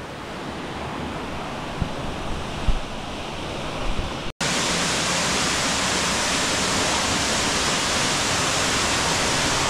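A waterfall in the Blue Mountains roars as a steady, dense wash of water, quieter at first and then suddenly louder and closer after a brief cut, with no talking.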